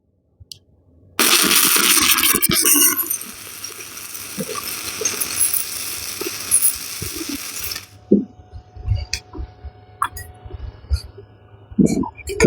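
An ArcCaptain CUT55 plasma cutter cuts through metal with a loud, steady hiss lasting several seconds, then stops. Scattered clanks and handling noises follow, with brief talk near the end.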